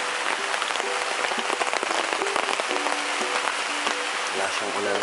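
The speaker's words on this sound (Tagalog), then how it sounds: "Lakas yung ulan." Heavy rain pours steadily onto a surface at Camp Gilmore, a dense, continuous hiss with scattered drops, near and loud, with faint voices in the background.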